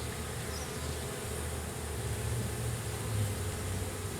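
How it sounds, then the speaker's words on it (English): A large cluster of honeybees from a swarm buzzes steadily, a dense continuous drone that holds at a fairly even loudness throughout, with no voices over it. "we've got a lot of bees clustered down here"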